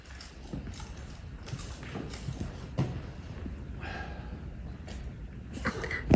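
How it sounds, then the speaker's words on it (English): A horse's hooves clip-clop at close range in an irregular walking rhythm, moderately loud, with a soft snort or cough at the end and no clear speech. "I shall hold Gareth Hughes' horse, not a problem"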